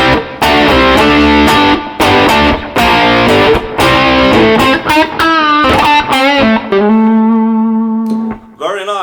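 An electric guitar played through an S-Gear amp simulator preset rings out loud and close, with distorted chords and single-note runs that end on sustained, wavering held notes fading to quiet.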